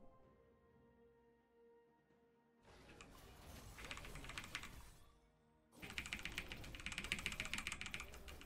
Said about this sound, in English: I need to get rid of that mechanical keyboard.